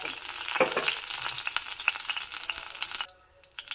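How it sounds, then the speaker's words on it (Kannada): A tempering of chana dal, dried red chili, asafoetida, turmeric and curry leaves sizzles in hot oil with dense crackling pops close by, cutting to near quiet for the last moment. "ನೋಡಿ ಒಗ್ಗರಣೆ ಆಲ್ಮೋಸ್ಟ್ ಆಗ್ತಾ ಇದ್ದಾಗೆ"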